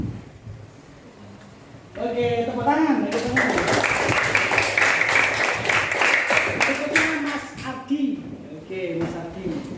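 A class of sixth-grade pupils claps hands together in a burst lasting several seconds, fairly loud and close, while a teacher's voice talks before and after and children chatter beneath.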